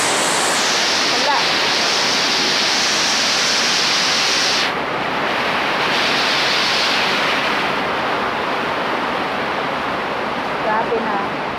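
Floodwater rushes steadily into a flooded bedroom with a loud, continuous roar like a waterfall, the broadband flow shifting slightly in tone partway through.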